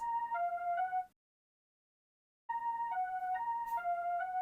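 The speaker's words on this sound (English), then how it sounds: "This is the drive saw synth" A buzzy, distorted saw-wave lead synth plays a short two-note figure, stops for over a second, then repeats the alternating pattern, bright and upfront with no voices.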